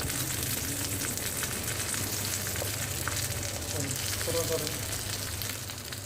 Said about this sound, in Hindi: ये भिंडी देखो, हमारी भिंडी फ्राई हो चुकी है।